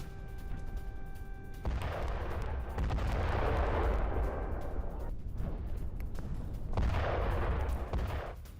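Heavy, continuous booming and rumbling blasts from US military strikes on an Iranian radar site roll on, loud and sustained, with brief lulls between bursts of explosive noise.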